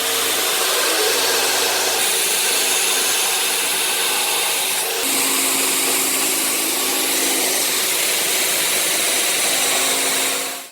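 Power tool, a jigsaw or router, cutting a hole through a wooden workshop piece: a loud, continuous high-pitched whine with a shift in pitch partway through, running without pause and with no talking.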